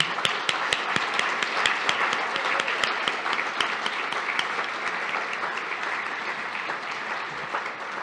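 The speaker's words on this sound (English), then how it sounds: "One more round of applause for Charles Schwab" Audience applause at an evening speaking event honoring Charles Schwab, a steady dense patter of many hands clapping at moderate level, sustained throughout with no voices over it.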